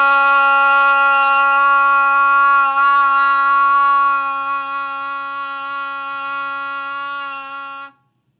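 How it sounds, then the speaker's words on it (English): A single voice holds a loud, steady "ah" at one pitch for about eight seconds before cutting off cleanly. "we have the loud, sustained ah."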